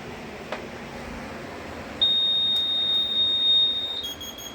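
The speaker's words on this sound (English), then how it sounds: "just hold it until it starts beeping." A fire alarm system sounds a steady high-pitched electronic beep during a carbon monoxide button test, starting partway in and holding continuously, fairly loud over a quiet room background.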